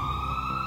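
An ambulance siren sounds in a brief, steady fragment, a sustained high wail heard faintly and alone.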